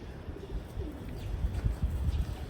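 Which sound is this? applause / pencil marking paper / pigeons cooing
pigeons cooing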